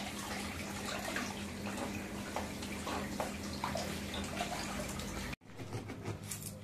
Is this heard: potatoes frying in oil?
no